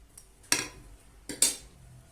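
A metal spoon clinks twice against a bowl while yogurt is stirred for carrot tarator; the clinks are short, sharp and close, with little else around them.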